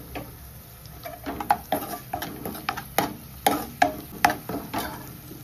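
Green chilies frying in a pan in a home kitchen, with soft sizzling under repeated sharp clinks and scrapes of a spoon stirring against the pan, close and fairly quiet.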